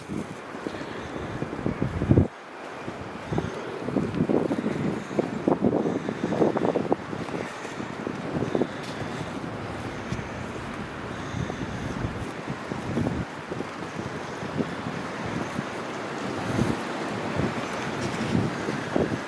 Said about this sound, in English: There's nothing like the sound of rushing water.